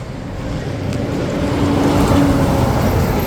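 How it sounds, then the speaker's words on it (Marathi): Steady traffic roar on Highway 66 near Rajapur, vehicles rushing past at speed, a continuous near wash of road and engine noise that swells slightly over a few seconds with no voices. "त्या पहा गाड्या अशा भरधाव भरधाव जात असतात या हायवेला"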